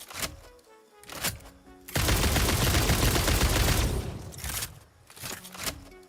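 Rifle gunfire in the video game Satisfactory: a few separate sharp shots, then a dense, loud burst of rapid automatic fire for about two seconds, followed by scattered single shots.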